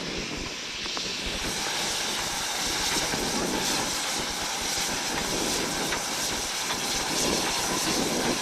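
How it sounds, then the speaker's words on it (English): An approaching steam train at Rio Gallegos, Argentina, creeps nearer through a heavy downpour, its low rumble blended into a broad, constant hiss of rain that holds steady and fairly loud with no voices. "the drizzle turns to a downpour as the train creeps nearer."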